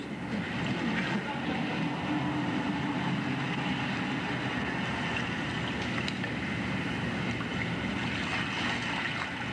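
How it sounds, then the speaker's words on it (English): Recorded ocean waves make a steady, continuous wash of surf noise that holds an even level throughout, with no voices. "there's no beat in the waves"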